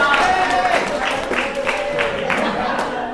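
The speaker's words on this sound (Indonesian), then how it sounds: "tepuk tangan untuk Mas Khatib" A classroom of students claps for a classmate after he answers a quiz question on the Abbasid caliphate, a dense steady patter of hands alongside chatter and voices throughout.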